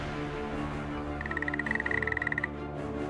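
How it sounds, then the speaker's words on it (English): Frogs croaking in a swarm, a rapid pulsing chorus of calls that swells in the middle and then stops, heard alone over a steady low background. "So came the second plague, frogs."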